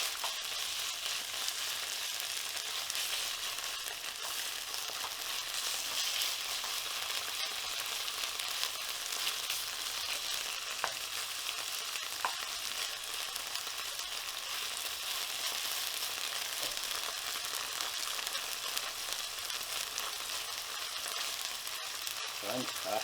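Long strips of beef cut from steak sizzle steadily in a hot pan for Korean bulgogi, a dense, even hiss of frying with faint crackles, close by and uninterrupted by talk.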